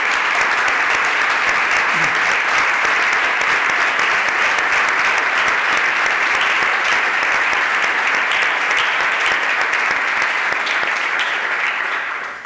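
A large audience applauds at an annual association ceremony, a loud, sustained, even wash of clapping that holds steady throughout and cuts off abruptly at the end.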